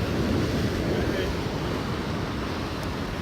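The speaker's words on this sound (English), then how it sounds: "The water comes over." Hurricane Dorian storm surge waves washing over the rocks at St. Simons beach by a boardwalk, a steady loud roar of surf mixed with gusting wind noise on the microphone, close and continuous.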